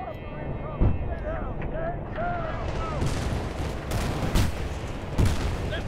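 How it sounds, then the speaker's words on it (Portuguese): Explosions in Battlefield: Bad Company 2 thump and boom in quick succession amid chaotic gunfire, loud and close, with brief shouting in between. "só explosões!"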